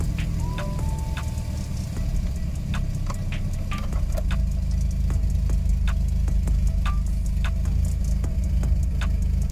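A steady, low truck engine rumble idles continuously at about 900 rpm, with faint ticking and clicking noises scattered over the top.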